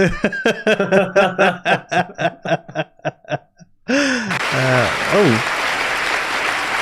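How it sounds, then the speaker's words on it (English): A studio audience breaks into a round of applause at a magic-themed comedy show, starting just under four seconds in after a stretch of rhythmic chuckling and voiced sounds, with a few voice-like whoops over the clapping. "And you get a round of applause."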